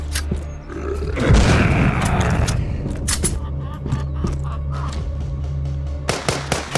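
Shotgun blasts fired at zombies in The Walking Zombie 2 mobile game: a heavy booming burst, then a couple of sharper shots later, over a steady low game hum.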